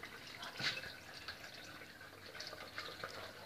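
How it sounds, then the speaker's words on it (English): Water runs steadily through a hydroponics pipe with a soft, continuous rushing trickle and faint drips, quiet and alone. "The water keeps on flowing underneath all the way,"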